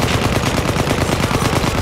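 Shotgun fire in the World War I shooter Battlefield 1, on the Fort De Vaux map, forms a dense, continuous wash of loud blasts and battlefield gunfire close up, with no clear gaps between reports.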